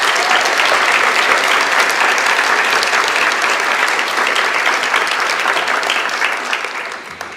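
An audience at an honor awards ceremony claps for leadership award recipients, a loud, even wash of many hands that holds steady and then tapers off toward the end.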